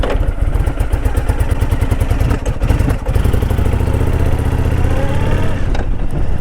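A motorcycle engine runs steadily and loud throughout as a first-time rider sets off, a continuous mid-pitched drone with rhythmic pulsing and some clatter.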